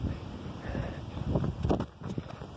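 Steady, gusty wind blows in a video game, a continuous rushing whoosh with a few rising swells and no clear talking.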